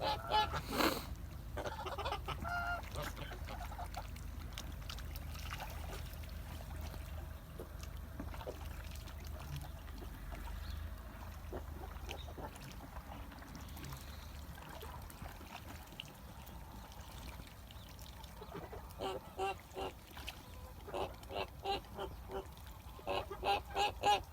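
Kholmogory geese honk repeatedly beside a small stream, their calls coming in irregular bursts that grow denser toward the end, with trickling water faintly underneath.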